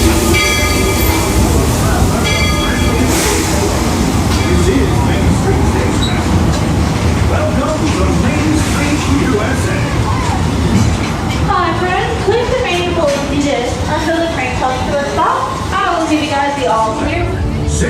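A ride aboard the Walt Disney World Railroad train at Magic Kingdom's Main Street Station, with a steady loud rumble and rattling clatter throughout, a voice talking over it and brief squeals near the end.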